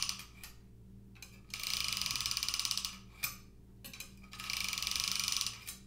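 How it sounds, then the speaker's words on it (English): Kitchen knife drawn through a handheld sharpener in two long gritty strokes, each a rapid ratcheting scrape lasting over a second, with brief clicks and pauses between; close and clear, no speech. "I'm gonna pull it through so it's just hitting that right sharpening side"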